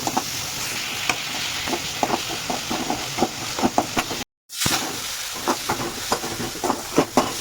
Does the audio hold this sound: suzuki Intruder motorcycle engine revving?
no